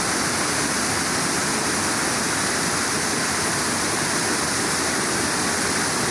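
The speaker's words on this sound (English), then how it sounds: "The sound of running, gushing water." Spring water at Mother Ludlum's Cave near Waverley Abbey gushes in a loud, constant broadband rush, steady and close with no breaks or voices.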